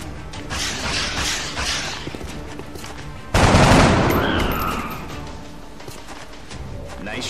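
Squad gunfire in the video game XCOM Enemy Unknown: low rumbling battlefield noise builds into a sudden loud volley of shots that rings out and fades over a few seconds.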